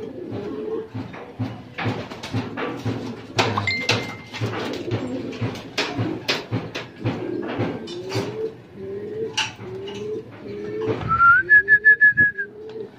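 Racing pigeons arrive at a loft during a fun race at Batangas Port, giving repeated soft coos and whistling calls close by, with scattered wing flaps and knocks. A rising whistle-like call ends the passage.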